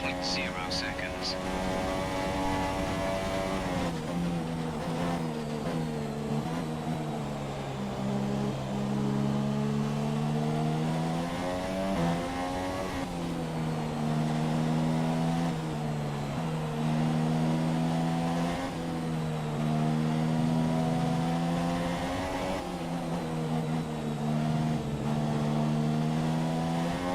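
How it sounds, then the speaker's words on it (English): A Formula 1 car engine in the video game F1 2017 drones and strains continuously at the Japan race, its pitch wavering up and down as the struggling car labors, loud and steady throughout. "You could hear the car struggling."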